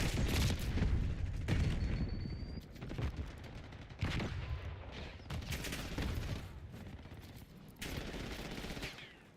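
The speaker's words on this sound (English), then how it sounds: "Incoming flashbang." A flashbang grenade goes off in the Warzone shooter, with loud bursts of gunfire and explosions cutting sharply in and out over a busy battle background, with no one talking.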